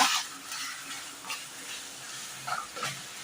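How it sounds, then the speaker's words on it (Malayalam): Masala chili powder stirred into a Nellore-style katla fish curry gives a soft sizzle under repeated scraping strokes of a spoon against the pan, close and with no talking. "ഇതിലേക്ക് മസാല മുളക് പൊടി ചേർത്ത് കൊടുക്കുക ചേർത്തതിന് ശേഷം നന്നായിട്ട് ഇളക്കുക"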